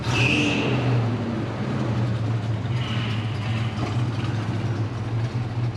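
A Chevrolet El Camino engine running steadily at a high idle, a loud continuous rumble close by with no talking.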